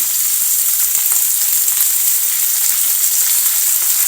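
Pork and vegetables stir-frying in a hot pan, a steady, loud, continuous sizzle with faint crackles and no talking.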